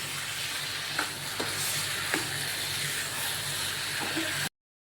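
Potatoes sizzle in a hot tempering, a steady close frying hiss with a few soft stirring knocks, cutting off abruptly at the end.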